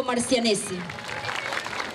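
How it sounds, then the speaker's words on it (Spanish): Someone speaks a name at the opening ceremony of the Feria de las Colectividades, then the crowd breaks into sustained applause that carries on as a broad wash of clapping. "Quiero que todos le demos un fuerte aplauso al señor Gustavo"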